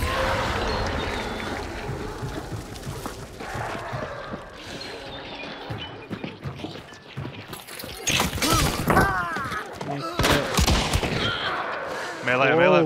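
Gunfire rings out in the video game Hunt: Showdown: scattered sharp shots and bursts crack loudly, mixed with mechanical clatter and shattering noises, and the shots grow denser toward the end.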